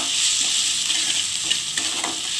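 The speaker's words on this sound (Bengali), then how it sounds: "পেঁয়াজ বাটা রসুন বাটা আর কাঁচা লঙ্কা কাঁচা পাকা লঙ্কাটা আমি দিয়ে দিলাম এটাকে ভালোভাবে কষিয়ে নিতে হবে" Onion paste, garlic paste and green chillies fry in a pan for prawn kalia, a dense, loud, continuous sizzle with light stirring, heard alone.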